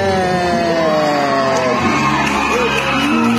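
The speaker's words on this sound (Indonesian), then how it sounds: "Gila-gila banyak ya tepuk tangannya" A loud crowd at a Kartini Day event cheers and whoops continuously, with shouts rising over a dense wall of voices; applause is likely mixed into the roar.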